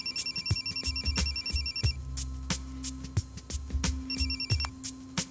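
A mobile phone ringtone plays a repeating electronic melody of bright, chiming tones. It is clear and close, with no talking over it.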